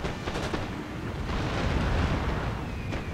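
Artillery fire in the Napoleonic-era strategy game Napoleon: Total War, a dense continuous rumble of distant booms and battle noise with no clear separate shots, steady and fairly loud throughout.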